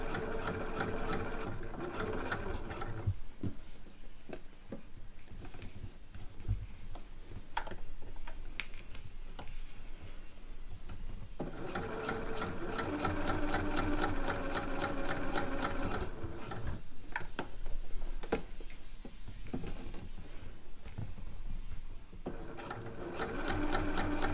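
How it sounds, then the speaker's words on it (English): A sewing machine stitching close to the neckline seam of a caftan, running in long steady bursts of rapid mechanical ticking with brief slowdowns and pauses, near and clear. "I'm just sewing a couple of millimeters in from that seam"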